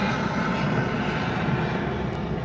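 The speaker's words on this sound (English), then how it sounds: "Right by an airport, that is an airplane." An airplane passes overhead close to an airport, a steady loud broadband engine roar that fills the whole moment without a break.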